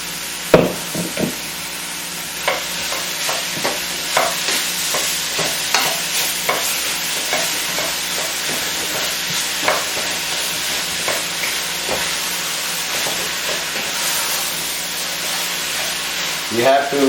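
Ground beef, a kilo of it, fries in a pan over onions and vegetables with a constant loud sizzle. A spoon scrapes and stirs it in regular strokes throughout.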